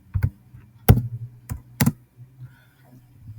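Typing on a computer keyboard while preparing a mail-merge letter: a handful of sharp, close key clicks in an irregular rhythm, with quiet gaps between strokes and no talking.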